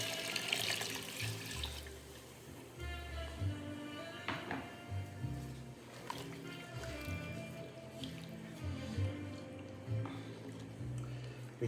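Beef broth, about two and a half cups, pours steadily into a pot of braised pot roast ingredients, a continuous splashing liquid stream close by with faint kitchen clatter.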